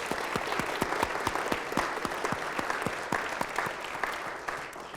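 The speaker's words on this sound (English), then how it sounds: "let's just give her a hand right now" A lecture audience at a gut-health talk gives a round of applause, with distinct individual claps in a brisk, even patter that holds steady and then starts to thin toward the end. No talking is heard.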